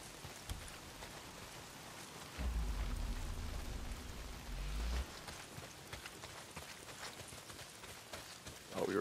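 Heavy rain patters steadily across surfaces in the video game Days Gone, a soft continuous hiss with a low rumble rising briefly in the middle.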